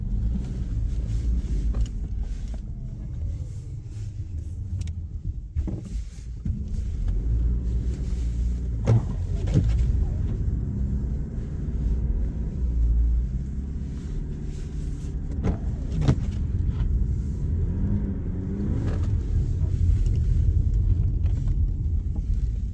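Car plowing through a deep, snow-packed bank, a steady low engine rumble with occasional thumps and scraping bursts as it pushes on, close and continuous.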